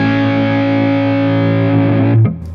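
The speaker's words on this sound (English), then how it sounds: "And it's the fuzz effect." An electric guitar driven through an overdrive pedal with a fuzz effect holds one thick, distorted sustained chord for about two seconds before it is cut off, loud and alone.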